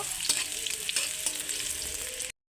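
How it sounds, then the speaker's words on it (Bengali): Chopped onions frying in hot mustard oil, a dense crackling sizzle with a few spatula knocks, close and steady, cut off abruptly near the end with no voices. "পেঁয়াজটাকে একটু ভালো করে ভেজে নেব।"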